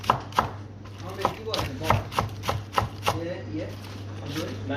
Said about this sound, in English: Let's cut some shallots.